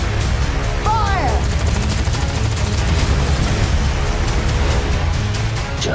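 Gunfire in the Dredd (2012) film trailer, a heavy, relentless barrage of rapid shots and booms that runs without a break, with brief shouted voices mixed into the din.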